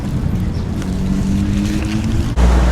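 A boat pulls away on a drainage-water canal in Bangkok near Bobae Market, its engine a steady low rumble that swells louder near the end, with wind and water noise around it.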